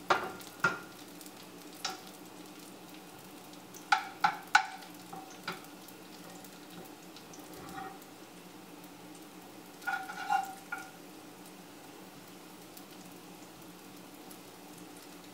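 Pork loin sizzles steadily in a hot pan, a soft crackling bed broken by sharp pops and spatters that come in small clusters.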